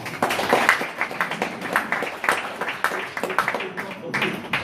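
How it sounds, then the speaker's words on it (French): Audience applauding a man named Michel at an 80th birthday celebration, a steady wash of many hands clapping close by, with some voices and cheers mixed in. "Bravo Michel, on t'applaudit."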